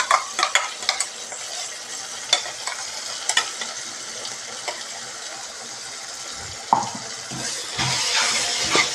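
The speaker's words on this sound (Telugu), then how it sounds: "ఇది కొంచెం ఆయిల్లో మగ్గనిద్దాము" Gongura paste sizzling and frying in oil in a pan, with a steady hiss broken by sharp scraping stirs of a spoon, close up and alone.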